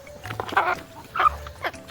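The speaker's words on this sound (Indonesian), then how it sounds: "ini si ayam paling heboh." Hens at a small farm, heard around feeding time after three days unattended. They give several short, excited clucks and squawks in quick bursts at close range, with faint rustling between calls.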